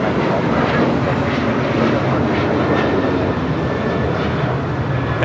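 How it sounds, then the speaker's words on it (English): Dense, broadband roar of a United Airlines Boeing 737-800 departing at Los Angeles International Airport, sustained and steady at moderate distance, with people talking over it. "That is United Airlines 1295 departing to Lihue on a 737-800."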